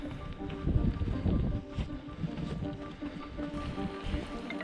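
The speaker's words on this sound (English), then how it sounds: "The rain continued to soak and discourage this climbing crew." Steady rain and gusty wind on an exposed mountain trail along the Pacific Crest Trail near Three Fingered Jack in Oregon, a dense hiss with low rumbling wind buffets on the microphone, continuous with no voices.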